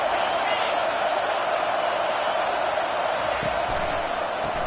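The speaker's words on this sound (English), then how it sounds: "This crowd, full throat, splitting the eardrums and letting them know it's going to be a long day." A packed stadium crowd at a football game roars continuously, a dense and loud wall of cheering that holds steady without a break.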